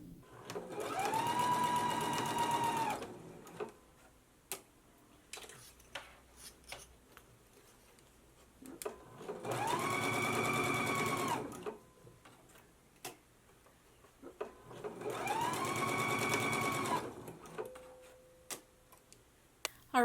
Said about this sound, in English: So let's go ahead and stitch our sleeves in place now.